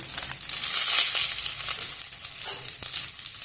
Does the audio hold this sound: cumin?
yes